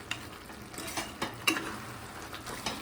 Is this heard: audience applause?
no